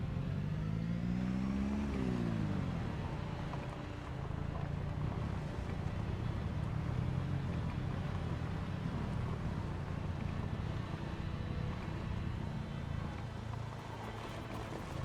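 A car in Project Zomboid drives along with a steady low engine drone, a brief rising rev at the start, then even road and wind noise throughout.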